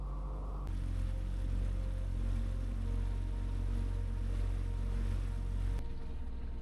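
A six-seat motorboat on a river safari at the National Chambal Gharial Sanctuary drones with a steady, loud engine hum and water rush, unbroken and without voices.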